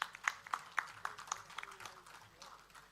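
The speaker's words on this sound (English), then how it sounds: "A big round of applause, my friends" Scattered applause at a felicitation ceremony in Goa, with irregular claps of moderate loudness spread through the clip. The clapping stays thin and patchy, with a hint of background voices.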